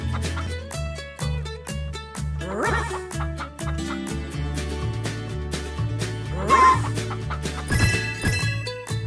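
Chickens cluck in the PAW Patrol Rescue World video game, with a few short squawking bursts rising over bouncy, steady background music.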